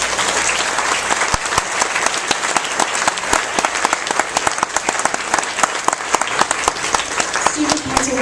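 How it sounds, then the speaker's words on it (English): At a sixth-grade graduation, the audience gives the student council officers steady, loud applause, a dense clatter of many hands that continues throughout. "Let's give them a round of applause"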